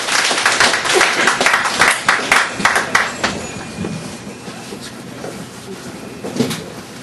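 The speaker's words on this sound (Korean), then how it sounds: "큰 박수 한번 쳐주세요" An audience at a poetry reading event claps loudly and densely for about three seconds, then the applause fades to scattered claps and room noise.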